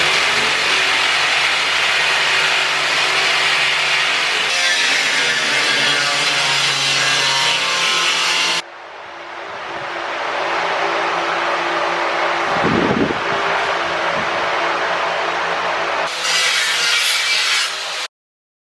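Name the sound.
jigsaw and grinder cutting aluminum panel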